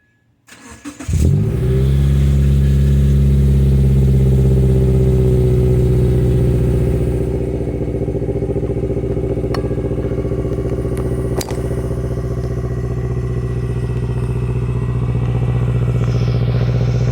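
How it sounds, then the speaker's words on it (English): A 2017 Subaru Crosstrek with an aftermarket 5-inch axleback exhaust cranks briefly, catches and starts, then settles into a steady, loud, close idle with a deep even hum for the rest of the time. "let me go ahead and start this up"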